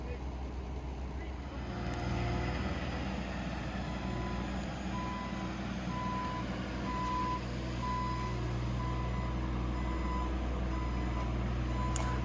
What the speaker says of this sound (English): So here we got one of the trucks positioned over there, and what he's doing is just filling the hopper, and then Mike or Michael will reposition